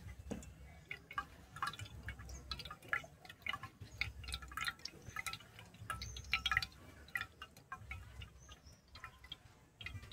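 Water drips and trickles through a strainer as ground mustard paste is rinsed and strained in a kitchen, giving faint, irregular drops and splashes close by with no voices.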